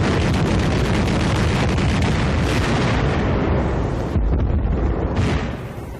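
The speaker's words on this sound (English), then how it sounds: "Anti-aircraft guns were fired point blank as anti-tank guns until they were overrun." Anti-aircraft guns fire point blank in a 1944 Battle of the Bulge engagement, making a continuous loud roar of heavy blasts and rumbling explosions that barely lets up for several seconds.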